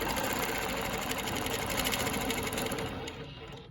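A longarm quilting machine stitches a Baptist fan pattern along rulers, giving off a close, steady, rapid mechanical hum and patter that runs continuously and eases slightly at the end.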